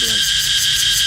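Cicadas in Namibia keep up a loud, continuous high-pitched buzzing drone that pulses slightly and fills the short clip.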